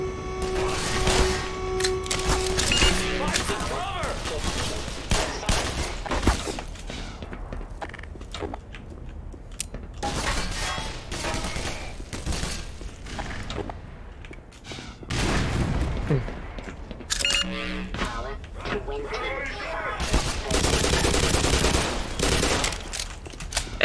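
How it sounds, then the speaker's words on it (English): Enemy gunfire in the video game Black Mesa, bursts of shots crackling through a dense game soundscape, with heavier volleys near the start and again toward the end. "These rude bastards over here shooting at me."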